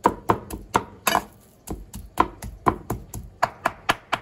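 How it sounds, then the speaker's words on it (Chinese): Pork being chopped by hand into small chunks for homemade Chinese sausage, a close series of sharp, rhythmic chopping knocks with a short pause partway through, then quickening strikes, with no voices. "我们再啊把它剁一剁"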